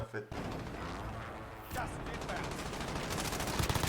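Rapid bursts of gunfire in a Call of Duty Warzone match, dense automatic shots and sharp cracks filling the clip with fairly loud repeated volleys, while players talk over it.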